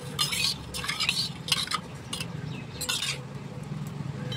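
Milk with two spoons of sugar and a spoon of dry yeast being stirred in a bowl, a spoon clinking and scraping in repeated bursts over a low background hum, no speech.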